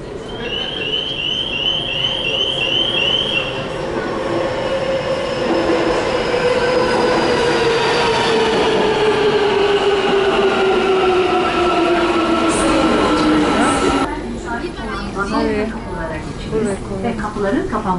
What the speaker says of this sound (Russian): Поезд подъезжает.